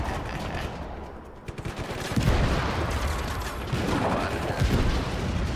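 Explosions and gunfire in the open-world action game Just Cause 3: bursts of rapid shots and booming blasts, loud and close, building in the second half with scattered chaos behind them.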